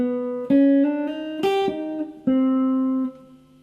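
A clean, mellow jazz guitar plays a short phrase starting on the augmented fifth, several plucked notes, some sustained, ringing clearly with no voices.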